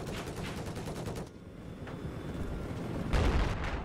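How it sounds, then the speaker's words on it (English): Gunfire in a competitive hardcore-mode video game match, dense rapid bursts of shots crackling almost continuously, loud and close, briefly easing before another heavy burst. "Oh, Burman taking fire."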